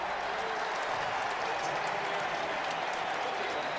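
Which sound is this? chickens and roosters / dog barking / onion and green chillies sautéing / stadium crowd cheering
stadium crowd cheering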